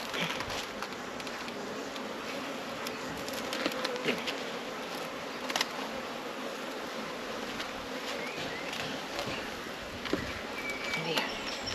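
Honey bees buzz steadily around an open beehive during a hive inspection, a dense continuous drone with a few brief clicks and knocks from handling equipment nearby.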